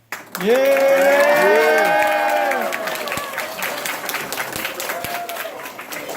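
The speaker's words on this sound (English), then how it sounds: "Cheer if you think he's innocent." A school class play audience, mostly children, bursts into loud cheering, high shouts and clapping, swelling at once and then fading into scattered claps and chatter.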